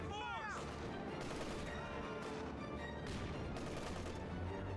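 An MG30 machine gun rattles in a World War-era video game battle, a steady distant stream of rapid shots under a dense din of other gunfire and battle noise, with no clear talk.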